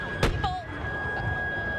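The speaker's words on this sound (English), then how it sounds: "that was another explosion. I'm assuming that was pepper balls being thrown again." A sharp, sudden bang from pepper balls pops out of a steady background hum at a protest, followed by faint distant shouts.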